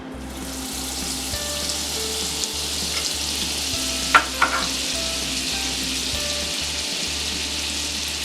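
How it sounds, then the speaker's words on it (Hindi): Oil and butter heat in a pan over medium flame, giving a steady, soft sizzle with a low background hum and a couple of faint clinks midway, close up and without voices. "इसमें हम 1 बड़ा चम्मच तेल डालेंगे और 2 चम्मच बटर डालेंगे।"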